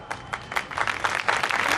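Scattered audience clapping at a Hindi kavi sammelan poetry recital in Danganiya, Raipur, a thin burst of irregular hand claps from a modest crowd with no talk over it.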